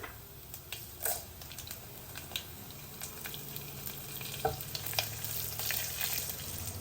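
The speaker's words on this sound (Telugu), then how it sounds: "ఎండుమిరపకాయలు మాత్రం బాగా వేగనివ్వాలి" Dried red chillies fry in hot oil for a tempering, giving a low, steady sizzle with scattered crackles and occasional stirring clinks, heard fairly close and quiet.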